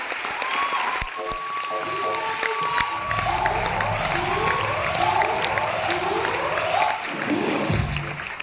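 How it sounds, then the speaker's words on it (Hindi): A large audience claps loudly and continuously, with some cheering and shouting mixed in, while a voice speaks over the crowd at points. "जोरदार तालियां।"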